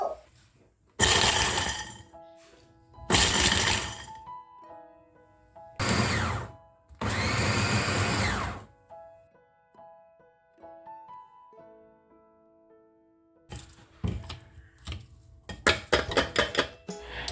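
An Idealife 216J electric chopper shaving ice in loud, close whirring bursts separated by pauses, followed by a rattling, choppy stretch as the ice breaks up.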